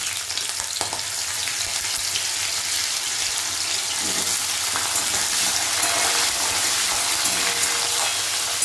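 Small potato pieces fry in hot oil with spices for a jackfruit curry, a dense, steady sizzle and crackle filling the whole stretch, with occasional faint stirring knocks in the pan.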